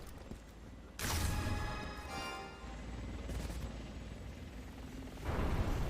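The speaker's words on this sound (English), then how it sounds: "The chopper is targeting us now." Helicopter in Resident Evil 6 during Chris's campaign, a steady rotor roar mixed with bursts of gunfire and loud impacts, dense and constant throughout the game action.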